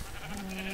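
A sheep in Minecraft lets out a short bleat, a brief nasal wavering call that sits close and fairly quiet against a faint game background.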